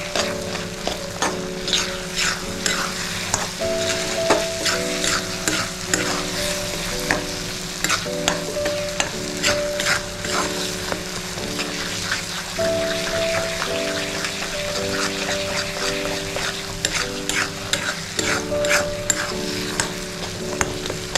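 A spoon stirs amaranth flour sheera with cardamom powder and chopped cashews and almonds in a hot pan. The scraping and sizzling are close and steady and continue throughout, with no talking.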